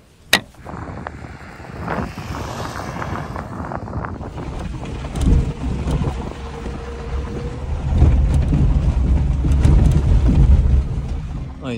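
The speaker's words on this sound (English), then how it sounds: "we found the Arctic Ocean. And it looks gnarly right now." Rough Arctic Ocean surf and wind on the Iceland coast roar as a continuous loud wash, with heavy microphone wind buffeting, and the surge grows stronger toward the end.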